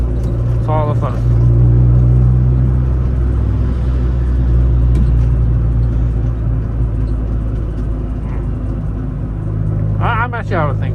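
Honda Civic heard from inside while driving, with a steady low engine and road rumble that stays loud and continuous and brief voices in the cabin.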